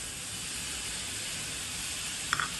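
Chopped onion frying in a pan until golden brown, giving a faint, steady, even sizzle with a couple of small clicks near the end.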